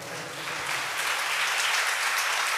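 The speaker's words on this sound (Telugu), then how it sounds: "గట్టిగా చప్పట్లు కొట్టండి" A church congregation claps loudly during a worship service, a dense, continuous wash of many hands that swells slightly and holds steady for a few seconds with no talking over it.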